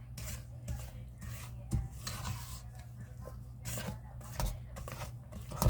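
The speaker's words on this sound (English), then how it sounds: "we're going to scrape down our sides, okay?" A heavy-duty spatula scrapes the sides of a mixing bowl of pound cake batter, giving repeated soft rubbing strokes close by over a low steady hum.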